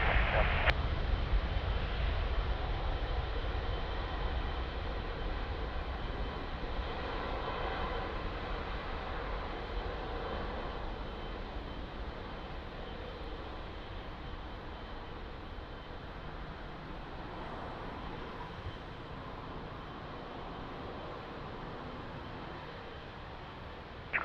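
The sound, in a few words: aircraft landing on runway 02 at Lisbon Airport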